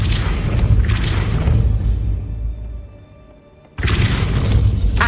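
Depulso spell cast in Hogwarts Legacy, a loud booming blast with a whooshing roar that cuts out abruptly and then bursts back in at full strength.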